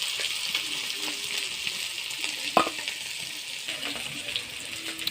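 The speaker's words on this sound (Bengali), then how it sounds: "পেঁয়াজ কুচি দিয়ে দিলাম কাঁচা লঙ্কা চিরা, একটু লাল লাল করে ভাজি করে নেব পেঁয়াজগুলি।" Chopped onions and slit green chillies frying in a pan, with a close, quiet sizzle under stirring clatter and a few sharp knocks, while a voice talks faintly.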